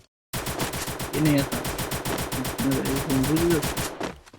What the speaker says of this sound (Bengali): এটা গুলি হলো